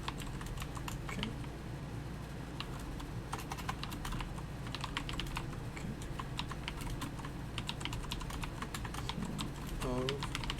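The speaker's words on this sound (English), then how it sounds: "This is going to be some typing ASMR." Computer keyboard typing, a quick irregular patter of soft key clicks running steadily throughout, close and fairly quiet, with a faint voice murmuring briefly near the end.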